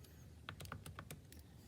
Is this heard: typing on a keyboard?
yes